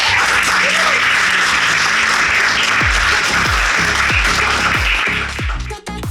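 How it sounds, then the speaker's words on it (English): Sustained audience applause fills an awards ceremony honouring South African women in sport, with dense loud clapping throughout and a few low thumps near the end. "Round of applause."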